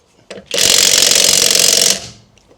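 A DCA cordless impact wrench rattles in one loud, steady burst of rapid hammering lasting about a second and a half, close by, then winds down to silence.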